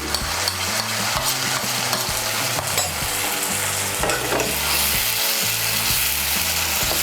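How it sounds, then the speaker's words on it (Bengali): Garlic, ginger and green chilli paste fries in oil with a loud, close hiss and occasional stirring scrapes, while melodic background music plays underneath. "ভালো করে মিশিয়ে নেব তেলের সঙ্গে। মিশিয়ে নিয়ে সামান্য একটু ভেজে নেব।"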